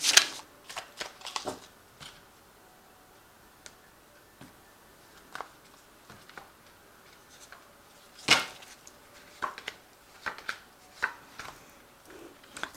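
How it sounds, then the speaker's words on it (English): Cards drawn from an Oracle deck make soft, scattered flicks and slaps, quiet and close, with irregular pauses between handlings. "I'm going to just draw some cards from the Oracle deck"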